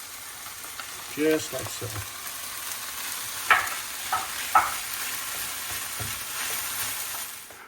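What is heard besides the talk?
spinach frying in a pan with eggplant and onion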